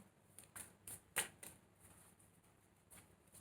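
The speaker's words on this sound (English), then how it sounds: "I'm shuffling here so that you know that it's not pre-shuffled" Tarot cards being shuffled by hand, soft quick riffles and taps close up and quiet, a few crisp bursts spaced over a few seconds with no talking.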